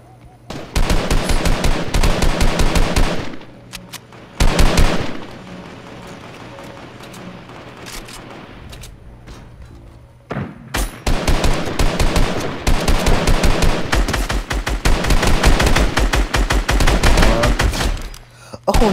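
Video game gunfire crackles in dense, rapid volleys, loud and close, with a quieter lull in the middle before heavy firing resumes.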